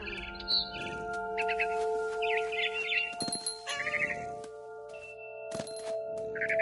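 Barn swallow chirps in What Remains of Edith Finch, several short bright twittering bursts scattered over steady tonal game music, with a few soft thuds and a sharp crack partway through.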